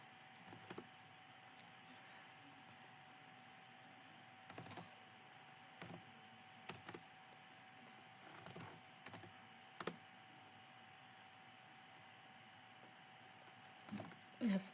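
Sparse, scattered keystrokes on a computer keyboard, each a faint isolated click with long pauses between, set against a steady low background hum.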